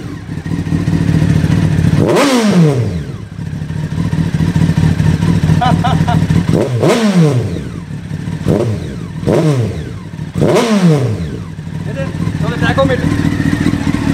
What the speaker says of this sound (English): All right, time for the exhaust note. And she has got a beautiful Two Brothers exhaust.